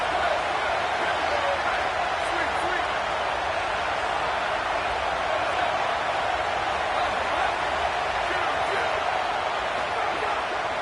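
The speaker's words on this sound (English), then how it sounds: "This crowd trying to make life miserable for this offense." A football stadium crowd keeps up a loud, steady roar through the whole stretch, a dense wash of noise with no breaks.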